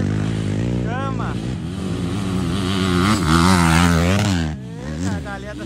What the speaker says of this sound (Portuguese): A galera tá acelerando